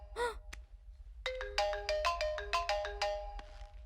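A mobile phone ringtone for an incoming call plays alone as a rising sequence of bright electronic tones, repeating in quick bursts for a few seconds after a brief earlier chirp.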